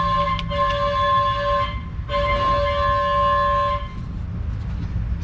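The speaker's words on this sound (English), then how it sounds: "there goes the lunch truck making all that noise" A lunch truck passes outside during a Volkswagen CC oil change, its loud sustained horn-like tones blaring over a low rumble, breaking briefly and then sounding again before fading away.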